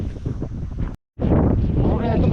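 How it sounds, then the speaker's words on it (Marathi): Strong wind buffets a microphone in an open farm field with papaya trees during May, a loud roaring rumble that drops out briefly and then returns, with some voices mixed in. "हवा एवढी चालू आहे ना, भयानक हवा चालू आहे सध्या"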